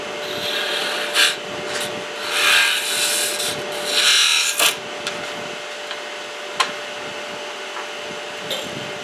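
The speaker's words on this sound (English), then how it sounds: "I did wipe it down with walnut oil." A wooden goblet on a woodturning lathe is wiped down with walnut oil, giving a steady close rubbing hiss over a faint machine hum, with a few louder swipes and soft knocks.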